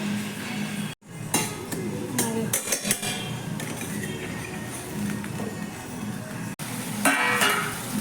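A cooking pot lid lifted off and set aside over a loud ongoing sizzle, with sharp metallic clinks and clatters in the first few seconds and another knock near the end.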